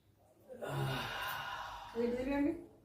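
A patient with two days of cough, fever and sore throat takes a deep, audible breath in and out during a doctor's check-up, with soft breathy rushes and a brief voiced exhale near the end.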